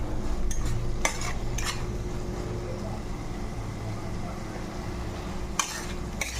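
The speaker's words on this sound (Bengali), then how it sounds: "দেখো মশলাটা অনেকটা ভাজা ভাজা হয়ে এসছে" Spice masala with turmeric and salt frying in a pan for a soybean and potato curry, with a low steady sizzle under a few sharp clinks of a spoon against the pan.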